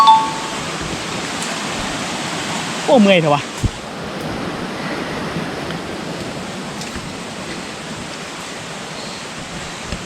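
Above the Tat Kham waterfall in Nakhon Phanom, water rushes in a steady, broad hiss throughout, while a voice and a few faint knocks briefly rise over it.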